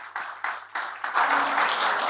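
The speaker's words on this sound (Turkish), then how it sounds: "Ben de sizlerden kuvvetli alkışlarınızı isteyeceğim" Applause from a lecture audience as a professor is invited onto the stage, starting in a few separate bursts and then swelling into steady, fuller clapping.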